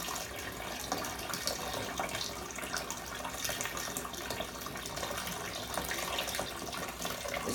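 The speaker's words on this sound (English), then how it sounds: "Sorry about the water running out." Steady tap water runs continuously while a bath bomb is prepared, a constant broadband rush with no talk over it.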